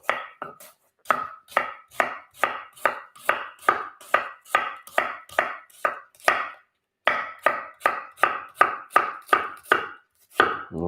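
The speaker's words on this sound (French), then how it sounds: "pour l'oignon, tout simplement émincé" A knife slices an onion lengthwise on a cutting board, making loud, close, steady chops in an even rhythm with one short pause partway through and no voices.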